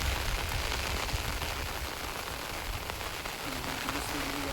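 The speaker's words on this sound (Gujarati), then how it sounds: "ફૂલ વરસાદ ચાલુ છે" Heavy evening rain falls on a Gujarat village, a dense, continuous hiss of drops on surfaces and water, steady and fairly loud throughout, with no one talking.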